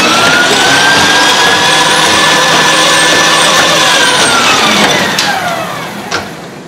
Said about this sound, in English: That is air-cooled radial engine